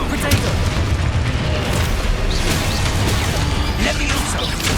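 Dense, continuous rumbling blasts from Confringo fire spells in Hogwarts Legacy, loud and sustained with overlapping booms and crackle, while a voice calls out in the background.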